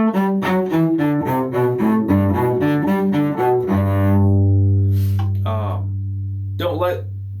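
Solo cello plays the closing measures of Witches Dance from Suzuki Cello Book 2, a quick run of detached descending notes down to a low G, which is held and rings out, then a short arpeggio, up close with no talking.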